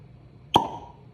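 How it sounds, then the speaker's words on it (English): A cork pops out of a Heaven Hill Grain to Glass bourbon bottle in a single sharp, hollow plop with a short ringing tail, close and alone in a quiet room. "But we'll pop the cork."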